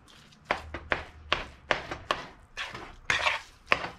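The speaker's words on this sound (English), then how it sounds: "I'll take my knife and I'll kind of like squish it up" A knife presses and chops sloppy joe ground meat in a pan for burgers, about ten short, sharp metal-on-pan scrapes and taps in an irregular rhythm, close up with no talk.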